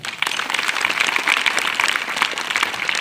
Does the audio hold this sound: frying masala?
no